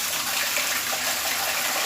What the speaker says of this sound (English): So what I do is I start out with some warm water.